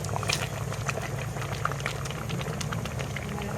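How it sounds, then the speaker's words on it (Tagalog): Mung beans boiling in a pot, with a steady, dense bubbling and popping that stays close and even throughout, with no voices. "Kukuluan na po yung munggo"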